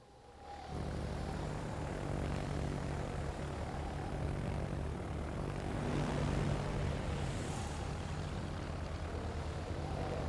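Propeller-driven torpedo bomber engines drone steadily in a World of Warships naval battle, a loud continuous aircraft roar that rises after a brief quiet start and holds throughout.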